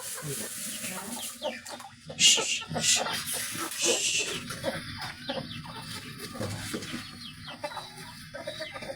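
Chickens cluck and squawk close by at feeding time, a busy flock with bursts of sharper calls, while a person talks in between.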